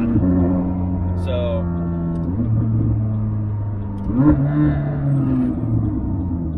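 The 3.8-liter twin-turbo engine of a McLaren 600LT with an aftermarket exhaust and tune hums loud and close, its steady tone dropping, then swelling with a brief rev. Someone talks over it.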